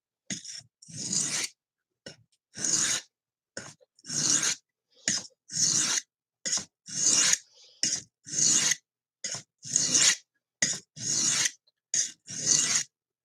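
A knife blade being sharpened on a cheap Harbor Freight stone, close and clear: repeated rasping strokes in a steady rhythm, each a short gritty scrape followed by a brief pause, no talking.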